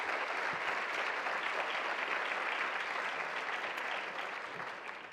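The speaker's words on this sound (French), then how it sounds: "je vous demande d'accueillir chaleureusement par une première salve d'applaudissements" A conference audience gives a warm welcoming round of applause for panel guests, dense, steady clapping from many hands that stays loud throughout and tapers slightly at the end, with no talk over it.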